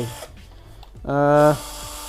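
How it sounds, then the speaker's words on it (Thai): A cheap cordless electric drill spins up briefly for about half a second, giving a steady, close, high-pitched motor whine between quieter handling sounds. "อ่าทีนี้ก็ลอง กดสว่านดู"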